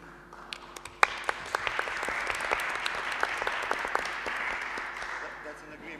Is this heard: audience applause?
yes